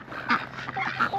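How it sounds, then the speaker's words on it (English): Ducks quacking in a crowd near the Oregon Trail ruts in Wyoming, a steady jumble of nasal calls with a few louder bursts, close by and continuous. "Look at all these ducks."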